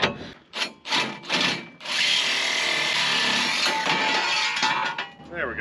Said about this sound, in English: So it means I gotta get out the saw.